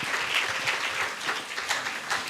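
Applause from a church congregation during a Sunday worship service, a dense steady patter of many hands clapping together for the whole stretch without pausing.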